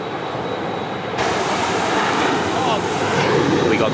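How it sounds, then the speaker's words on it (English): A Qantas jet airliner takes off at Sydney Airport, its broad engine roar building steadily louder and more intense from a distance, with faint voices underneath. "We got Qantas taking off, going to Perth now."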